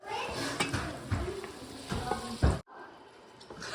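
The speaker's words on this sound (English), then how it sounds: "We're gonna fry this up to go with our steaks" Food fries in a pan as a side for steaks at a family dinner, a steady sizzle with stirring clatter under children's voices, then the sizzle continues more quietly near the end.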